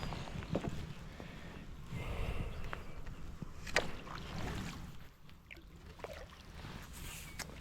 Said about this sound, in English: we're gonna put the trolling motor in and we're gonna head up to that bank if we can